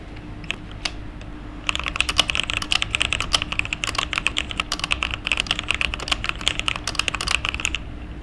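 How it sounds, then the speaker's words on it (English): Fast, continuous typing on a quiet computer keyboard, soft clicky keystrokes rattling in a dense rhythm after a few scattered opening taps, heard close over a low steady hum. "the sounds of my keyboard, because it's hard to pick up sounds on my keyboard because my keyboard is very quiet"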